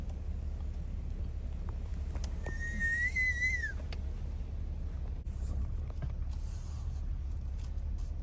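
A single rising-and-falling cat-call whistle sounds once, moderately close, over steady wind and low rumbling background noise, with no talking.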